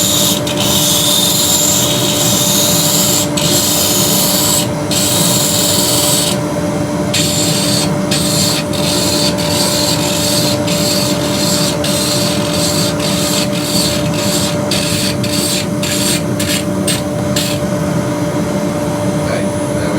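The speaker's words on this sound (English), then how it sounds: "We're going to now just sand off this top area." Abrasive sanding across the top of a turned wood piece spinning on a lathe: a loud, continuous rushing hiss over a steady motor hum, broken by brief dips as the paper lifts and touches again.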